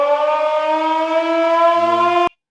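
A World War II air raid siren holds a steady, loud, harmonic-rich wail that briefly shifts lower near the end before stopping abruptly.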